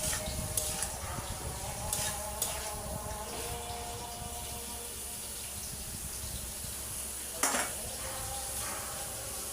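Drumsticks and eggplant frying in spice paste for a hilsa fish curry, a steady low sizzle with occasional scraping stirs and a brief clatter near the end.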